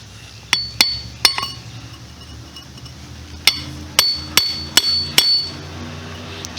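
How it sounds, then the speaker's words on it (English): Steel chisel tapped against a brick to knock off mortar, ten or so sharp metallic clinks in small bursts with pauses between, close and clear over faint background noise. "So I'm going to take this chisel and tap on it a little bit, see if I can bust the mortar off."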